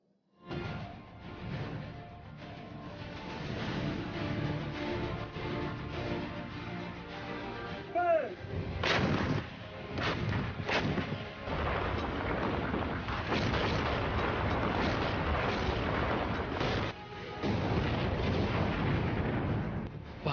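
Bofors artillery gun fired in mountainous terrain, a sequence of loud booming blasts with rumbling echoes over a continuous low roar, several sharp reports clustered in the middle and toward the end.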